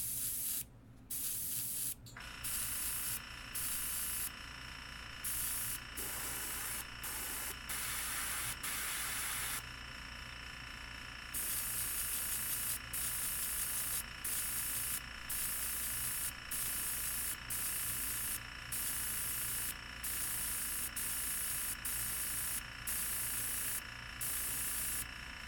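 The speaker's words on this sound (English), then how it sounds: "The airbrush is being kind of shitty right now." An airbrush spraying over-thinned paint gives a steady, close hiss that cuts out and restarts in short bursts throughout.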